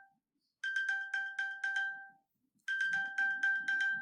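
A left-behind phone rings with a repeating electronic chime pattern in two bursts separated by a short pause, clear and moderately loud, heard alone in a classroom.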